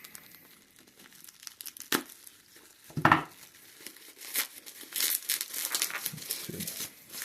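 Packing tape peels and rips off a cardboard package close by, with crinkling, a sharp tearing burst, then rustling and crackling as the box is opened.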